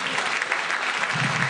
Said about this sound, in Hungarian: Lothar Matthäusnak egy nagy tapsot.